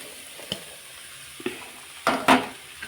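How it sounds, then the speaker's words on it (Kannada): Fried corn kernels are tipped into a dry, lightly oiled pan and stirred, giving a soft sizzle with a few sharp scraping clatters near the end. "ಈಗ ನಾವೇನು ಫ್ರೈ ಮಾಡಿಟ್ಟಿದ್ದೀವಿ ನೋಡಿ ಮೆಕ್ಕೆಜೋಳನ ಎಲ್ಲ ಇದಕ್ಕೆ ಹಾಕೊಂಡ್ಬಿಡ್ತೇನೆ"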